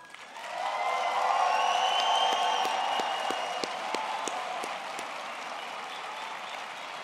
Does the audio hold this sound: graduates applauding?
yes